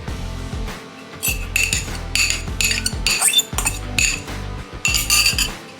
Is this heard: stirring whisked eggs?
yes